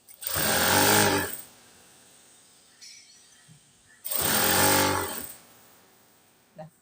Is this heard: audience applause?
no